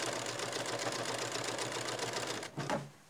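A sewing machine stitches binding onto a quilt, running steadily with a rapid, even mechanical chatter up close, then slowing and stopping briefly near the end with a short clunk.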